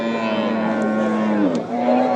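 A cow at a cattle market in Nilphamari, Bangladesh, gives a long, low, sustained moo close by, droning steadily with a slight dip near the end amid faint market background.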